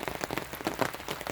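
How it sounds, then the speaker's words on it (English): Rain drumming on a tarp overhead, a dense, steady patter of close drops with soft irregular pops, continuous and alone with no talk. "Rain under the tarp."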